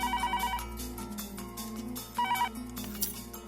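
A mobile phone ringtone plays on its own as a repeating electronic melody with bright tonal notes, steady and moderately loud, with no talking over it.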